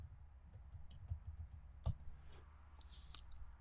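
Computer mouse clicking, a few faint, sharp clicks close up with light tapping between them and a low background hum.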